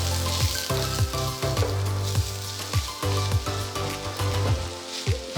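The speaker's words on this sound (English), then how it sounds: "Once the oil is hot, add the chopped onions and saute over a medium heat for about 5 minutes." Chopped onions sauteing over medium heat in hot sunflower oil for an Indian takeaway-style chicken pathia curry, giving a steady close crackling sizzle with light stirring knocks throughout.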